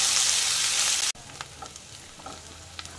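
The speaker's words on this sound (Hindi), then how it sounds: "इसमें डालेंगे ये बारीक कटा प्याज और प्याज को हमने गोल्डन ब्राउन करना है" Finely chopped onion dropped into hot oil with roasted cumin, a loud burst of sizzling that cuts off abruptly, followed by a quieter steady fry with occasional stirring taps, close and without talk.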